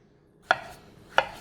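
Two crisp knife chops cut through cored tomatoes on a cutting board, spaced well apart, close and clear in a quiet room with no talking.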